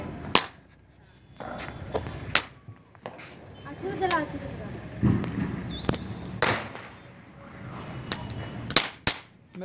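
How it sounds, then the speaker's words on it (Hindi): Diwali firecrackers going off outdoors, a series of sharp cracks and pops spread unevenly, some loud and close, with a short crackling burst in the middle and people talking between the bangs. "ये चटचटी फोड़ रही, देख"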